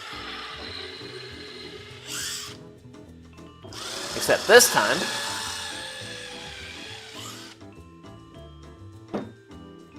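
Power drill pre-drilling screw holes in a wooden sign board, a short whirring burst in the middle rising over scattered handling noise and someone talking.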